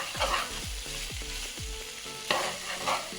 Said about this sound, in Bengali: তারপর আমি ভালো করে নেড়ে নিলাম, লবণ আর ঝালটা দুটোর মধ্যেই মাখিয়ে যায়।